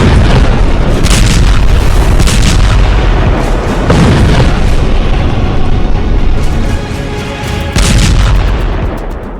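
Animated Israeli airstrike on Gaza with heavy bombs: loud, continuous rumbling booms and explosions rolling over each other, dense and overwhelming throughout, with no speech.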